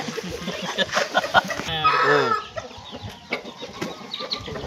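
Fighting roosters trained for Sankranthi cockfights cluck and squawk, with one drawn-out crow-like call in the middle, close by while people talk over them.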